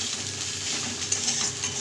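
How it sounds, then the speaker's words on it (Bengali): Spices with turmeric powder and green chillies frying in a pan: a continuous close sizzle with soft stirring scrapes running through it. "মশলাটাকে ভালো করে ভেজে নেব"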